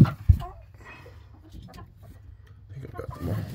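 An unhappy hen clucking in the coop while eggs are collected, a few short, close, low clucks and grumbles, the loudest near the start, with a person talking softly over them.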